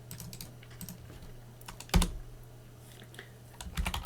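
Computer keyboard clicks as a password is typed, quick irregular taps up close with a sharper keystroke partway through and a final burst of keys.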